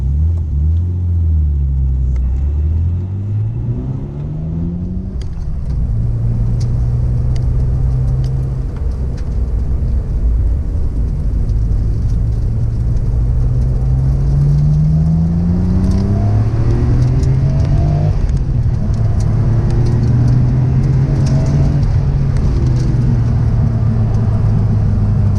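A Nissan R34 GT-R V-Spec on the road toward Lake Haruna, its engine droning steadily from inside the cabin, rising and falling in pitch through gear changes over a constant loud road rumble.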